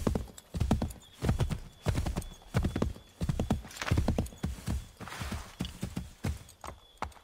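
A horse in Assassin's Creed 3 trots with rhythmic, close clip-clopping hooves and lets out a neigh partway through, the steady hoofbeats continuing alone throughout.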